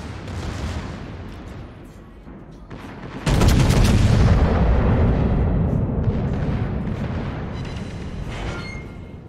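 Battleship main guns fire in a naval video game, on the Italian premium battleship Giuseppe Verdi: a single massive booming salvo hits suddenly, then a long loud rumbling roar slowly decays and lingers to the end.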